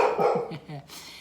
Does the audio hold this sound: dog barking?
yes